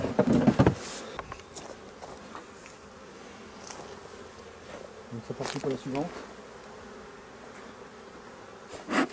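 Honeybees hum steadily around an opened hive during a spring inspection, a continuous close buzzing with louder swells as bees fly near, while a person speaks briefly and the beekeeper handles the hive.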